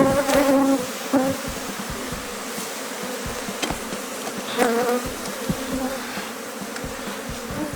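Honeybees buzz loudly and steadily around an open hive as frames of comb are lifted out during colony splitting, with close passing drones swelling in and out and a few faint clacks of handling.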